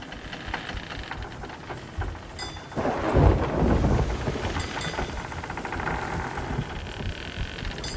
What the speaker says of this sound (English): I feel like they updated the sounds that the ship makes in the storm.